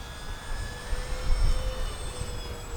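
An E-flite P-47 1.2 m RC model warplane with an electric motor flies overhead, its faint whining tone drifting and sliding in pitch over a soft low wind rumble, with no voices.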